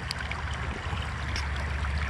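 A river in a gold-mining area flows with a steady, close rushing and gurgling, an even wash of water sound with no one speaking.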